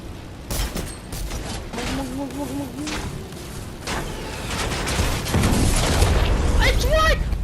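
Video game gunfire in a plane game mode comes as busy bursts of shots and booms layered under loud, excited talking and game noise, growing denser toward the end.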